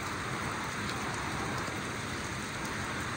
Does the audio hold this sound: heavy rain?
yes